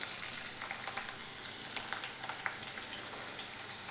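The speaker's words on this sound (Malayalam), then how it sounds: "അപ്പോൾ ആ ചൂടായ വെളിച്ചെണ്ണയിലേക്ക് തന്നെ നമുക്ക് സവാള, ഒരു മീഡിയം സൈസ് സവാള നീളത്തിൽ മുറിച്ചത് ഇട്ട് കൊടുക്കാം" Sliced onion fries in hot coconut oil in a pan, producing a steady close sizzle throughout, dotted with small crackles and pops.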